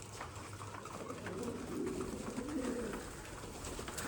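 Pigeons coo softly in a loft on a cold day, low rolling calls rising and falling near the middle, faint against a hissy background.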